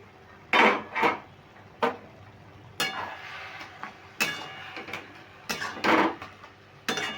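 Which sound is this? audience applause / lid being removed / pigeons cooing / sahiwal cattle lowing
lid being removed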